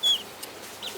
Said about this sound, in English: and so there's little chickens.